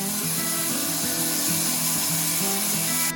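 A power saw cuts through a wooden board for a lazy Susan turntable, a loud, steady, close whine whose pitch wavers in repeating dips as the blade bites the wood, then stops abruptly.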